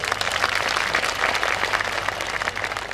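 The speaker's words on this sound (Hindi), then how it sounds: "बिटिया के लिए सबकी जोरदार तालियां।" An audience at a Ram Katha religious discourse in Chittorgarh claps for a girl who has just sung, in a dense, steady burst of applause without a break.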